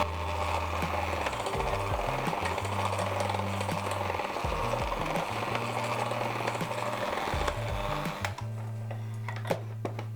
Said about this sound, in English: you want to follow it by about half of the yogurt and shortly mix that in as well